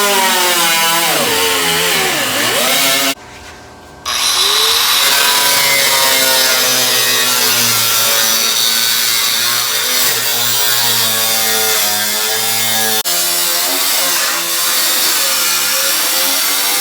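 A power saw cuts steadily through a fuel cell being fitted into a Buick Regal Winston Cup race car, a loud continuous grinding whine that drops out briefly near the start, then runs on without pause.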